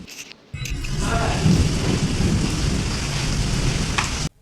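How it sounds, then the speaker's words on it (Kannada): Heavy rain suddenly roars in and holds steady with a deep rumble of thunder beneath it, then cuts off abruptly. "ನಮ್ಮ ಕಡೆ ಫುಲ್ ಜೋರಾಗಿ ಮಳೆ ಬಂತು"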